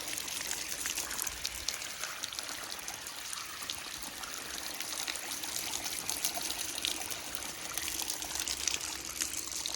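Clean groundwater from a solar-powered well pump runs steadily at a small field hut, a continuous close trickle and splash with no speech.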